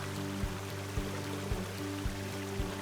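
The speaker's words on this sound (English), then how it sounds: "The waterfalls now have a really pretty trickle effect." A waterfall in the video game The Forest gives a soft, faint trickling wash of water, with regular dull thumps about every half second under it.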